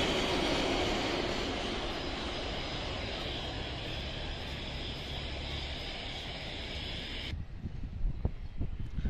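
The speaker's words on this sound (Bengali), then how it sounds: "এটি একটি বড় বিমান, এয়ারবাস A320 মডেলের বিমান।" A Himalaya Airlines Airbus A320 approaches to land over Uttara, a loud, broad jet roar passing overhead, then cutting off abruptly into quieter crowd background.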